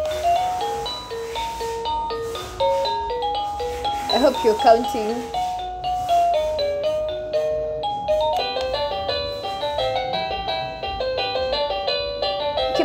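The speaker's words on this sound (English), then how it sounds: "That's the ding dong." A wireless doorbell plays its melodic ding-dong chime tunes over and over, bright stepped tones repeating across the whole stretch, with a voice talking over the chimes partway through.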